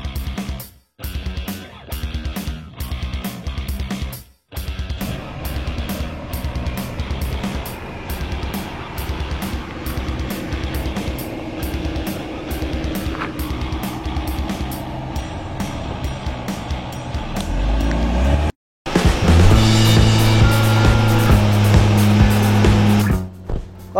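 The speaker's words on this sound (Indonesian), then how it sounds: "Ini meskipun jalannya tanah gini ya, rusak sekali, dia suspensinya masih bagus banget mainnya sih." A Porsche Macan drives over a badly damaged dirt road, its engine and tire rumble steady and loud throughout, with rattling suspension bumps, brief dropouts and a louder surge near the end.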